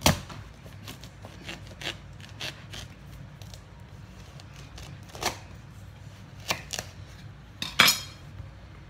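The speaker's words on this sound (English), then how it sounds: "I like to get a good sharp knife and I just cut them lengthways." A sharp knife cuts lengthways through a months-old spaghetti squash, giving scattered close crunches and scraping clicks with quiet gaps between them, then a louder crack near the end, with no talking.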